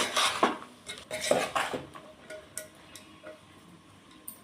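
A metal spoon clatters and scrapes in a cooking pan as ridge gourd pieces are stirred, giving several sharp clinks in irregular bursts that fade to lighter taps, close up with no speech.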